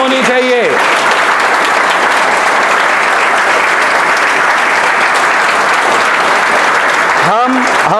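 Sustained audience clapping at a coaching institute prize distribution, loud and steady for several seconds, with brief speech at the start and end.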